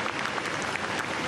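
Passers-by applaud a funeral cortege accompanied by soldiers, heading to Saint-Sulpice church in Paris, with brief, steady, moderately distant clapping from a street crowd.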